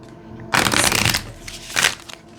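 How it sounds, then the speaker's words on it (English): Tarot cards are shuffled close up in two quick, papery riffling bursts, the first longer and the second brief. "Let's shuffle one more time."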